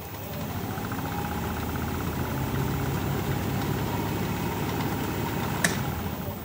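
A wood lathe spins a vase blank up to speed, its motor giving a steady, close, droning hum with a faint whine. A single sharp tick lands near the end. No one speaks.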